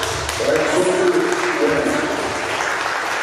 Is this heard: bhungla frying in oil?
no